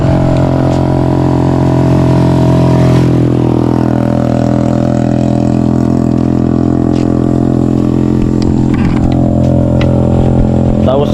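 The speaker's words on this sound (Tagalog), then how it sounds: "Mga motor." Motorcycles and other engines drone loudly and steadily along a road at night, with a few passing swells and no pause in the noise.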